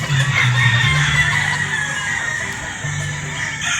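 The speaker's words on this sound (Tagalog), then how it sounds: "Napakaganda mga manok nito mga busing" Game-farm roosters at a Batangas farm crow loudly, one long call followed by another after a pause, with clucking fowl and faint voices behind them.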